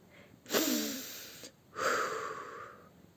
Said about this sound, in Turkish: Derin bir nefes almış.